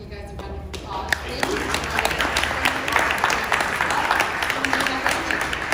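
An audience at a 2020 Lincoln Corsair Grand Touring presentation in Los Angeles bursts into applause, a dense, steady clapping that builds quickly and holds loud and near, with voices mixed in.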